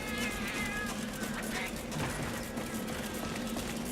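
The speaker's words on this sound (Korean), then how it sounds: "야 고양이 도둑 고양이야 튀어, 튀어요" Cat meowing in Monster Hunter Double Cross, from the thief cat creature in the game, with repeated high meows over continuous game ambience and background music.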